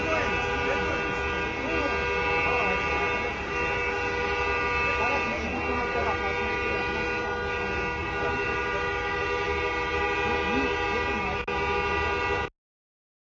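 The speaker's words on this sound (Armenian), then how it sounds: "այսքան ավտոների սիգնալ տալ" Many car horns blare together on a city street, a dense, continuous wall of honking that stays loud and unbroken before cutting off abruptly near the end.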